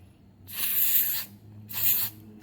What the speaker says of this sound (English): spray a bit of silicone spray